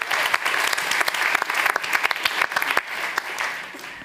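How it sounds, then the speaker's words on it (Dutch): Audience applause at a Dutch science café event, a dense steady patter of many hands clapping throughout, fairly loud and close with no talk over it. "Mag ik een hartelijk applaus voor onze twee dappere kandidaten."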